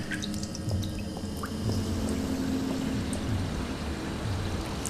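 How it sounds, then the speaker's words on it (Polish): Water drips and trickles inside a prison area in the shooter game Rage, a soft, steady patter of small drops with faint watery movement, fairly quiet and without talk. "kapie, kapie, kapie."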